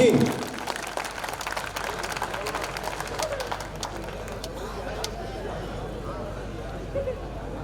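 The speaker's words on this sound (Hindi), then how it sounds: "जोरदार ताली बजाइए" An audience at a poetry recital claps at moderate loudness. The applause starts strong and tapers, and crowd murmur and voices run through it.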